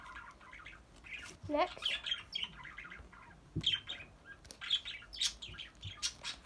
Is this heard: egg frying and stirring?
no